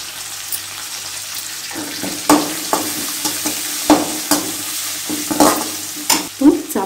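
Cooked rice for a variety rice dish is stirred and tossed in a pan, giving irregular scraping clatters and soft sizzling bursts close by with no talking.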